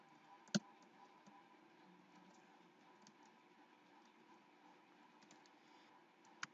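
Soft, scattered computer keyboard keystrokes while typing code, with one sharp louder key press near the start and another at the end in an otherwise quiet room.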